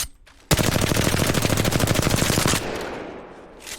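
A fully automatic R-301 rifle fires during recoil practice in Apex Legends, a close, loud, rapid burst lasting about two seconds that ends abruptly and leaves a fading echo.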